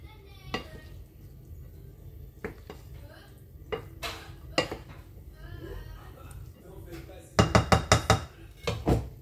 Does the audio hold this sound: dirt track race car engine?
no